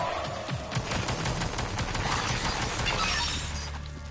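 Auto turrets firing in the sci-fi game Prey (2017), a dense, loud burst of rapid automatic gunfire with sharp shattering impacts that runs continuously throughout.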